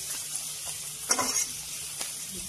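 Raw onions dropped into a simmering fish curry give a soft, steady sizzle with a brief louder burst of hissing and stirring partway through, close by and without speech.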